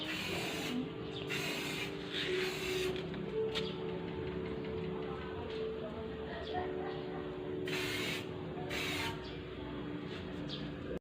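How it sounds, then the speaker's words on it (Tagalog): Short bursts of spray paint hiss from a can as a DIY wall clock is coated gray, several separate sprays over a low background hum. "nag-spray na ng color gray."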